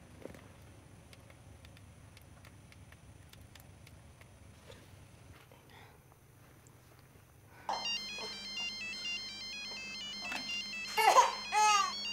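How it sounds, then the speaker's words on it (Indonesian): A phone ringtone starts partway through, a bright repeating electronic melody ringing out clearly after a quiet stretch of faint background noise. "Ibu Ida, ngapain dia telepon malam?"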